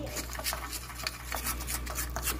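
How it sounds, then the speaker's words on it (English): Thickening maple syrup being stirred in a pot, a steady series of soft scraping strokes over a constant low hum, close and fairly quiet. "We're gonna keep stirring for a couple more minutes."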